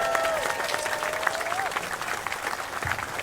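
Steady applause from a gathered crowd of city employees at an outdoor unity walk event, continuous clapping throughout with a tonal whistle or squeal briefly sliding above it.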